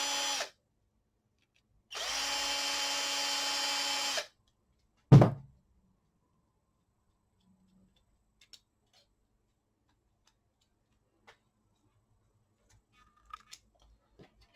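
Power screwdriver backing screws out of a model ship set, heard in two buzzing bursts, a short one then a longer one about two seconds, followed by a sharp clunk and near-silence with a few faint ticks.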